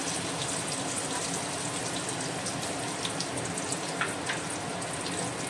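Garlic sizzles steadily in melted butter in a pan for Goan-style prawn chowmein, a dense, even frying crackle close by with small pops scattered throughout and no talking.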